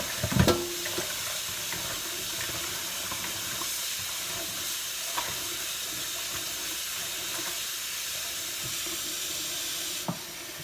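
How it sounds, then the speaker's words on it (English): Steady stream of cool tap water pouring into a sink for a final wash of turnip greens, a continuous broad hiss with a couple of faint clinks, no voices. "cool water in here for that final third wash"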